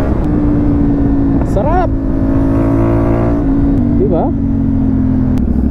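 A CF Moto 450 MT motorcycle rides along a rural road in Mangatarem, Pangasinan, its engine holding a steady close drone with wind rush, while a rider speaks briefly over it.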